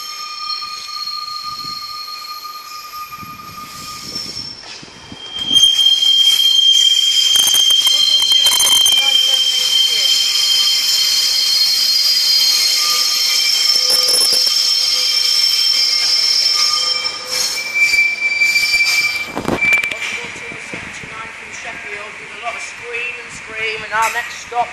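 A Northern Trains Class 142 unit arrives at Lincoln Central, its wheels squealing in long, shrill, loud tones that rise and persist over low rumble, with brief voices nearby.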